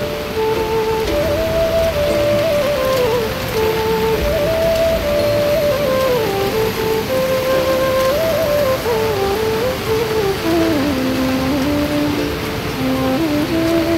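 Rain falls over a flood-damaged stretch along the Sardu stream where a work crew keeps going, a loud, unbroken hiss filling the whole stretch with a wavering tonal hum running beneath it.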